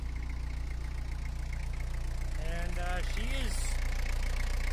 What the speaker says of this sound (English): We're gonna bring her up to idling temperature here.